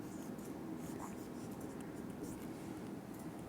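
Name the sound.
writing by hand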